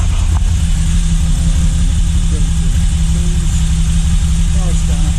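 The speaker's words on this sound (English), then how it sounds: "So let's get the bike fired up." A Moto Guzzi V85TT motorcycle engine runs at a steady idle after starting, a loud, continuous low throb close by, with faint background voices.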